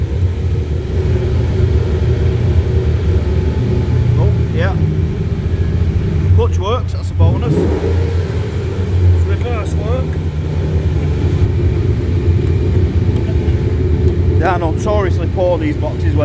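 A cheap Ferrari under restoration runs in gear as it tries to move, its engine a loud, continuous low rumble throughout, with a few brief higher mechanical sounds breaking through.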